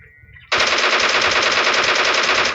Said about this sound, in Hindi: मैंने डीपी से थोड़ा सा प्री फायर देने की कोशिश करी